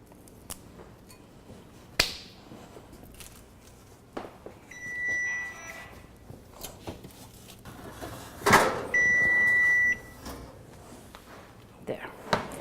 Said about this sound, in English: That's my timer for the yogurt.